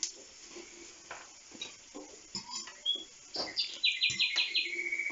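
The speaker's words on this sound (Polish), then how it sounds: "tam ptaki ćwierkają za oknem" Birds chirp outside a kitchen window, faint scattered calls building to a quick run of bright repeated tweets near the end, heard indoors against quiet room noise.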